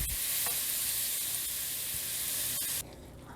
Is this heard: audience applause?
no